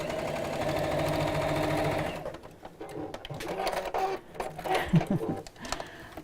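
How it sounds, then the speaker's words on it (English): A sewing machine stitching over a piped bag, a steady whirring run for about two seconds, then stops, followed by quieter handling sounds and a brief coo-like noise. "going to machine sew over the top of that"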